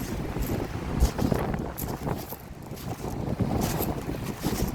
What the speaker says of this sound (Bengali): বাতাস খুব বেশি ডিস্টার্ব করতেছে।